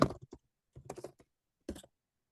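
Bursts of typing on a computer keyboard while adding a history-of-presenting-complaint section to a dental exam notes template, three quick clusters of close, crisp key clicks separated by short pauses, with no talking.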